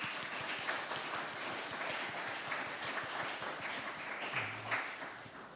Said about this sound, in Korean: 우리 옆에 있는 분들을 뜨거운 박수로 환영했으면 좋겠습니다.